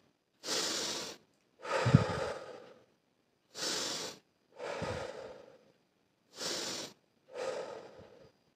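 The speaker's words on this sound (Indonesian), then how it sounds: "kita tarik nafas lewat hidung dan keluarkan lewat mulut sebanyak tiga kali" Three slow breath cycles, each a sharp inhale through the nose followed by a longer exhale through the mouth, close and audible with silent gaps between, as part of a ruqyah healing practice.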